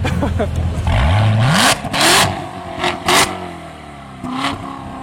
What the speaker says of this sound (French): Vous avez entendu le bruit de la Corvette?